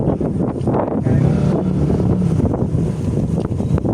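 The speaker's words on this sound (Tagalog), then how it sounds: "Sarap ng hangin." Steady wind buffeting the microphone, a constant loud rumbling rush with no pauses.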